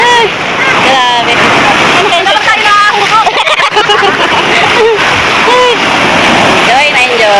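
Strong ocean waves at a beach crash in a loud, constant wash of surf, while people shout and squeal over the roar throughout.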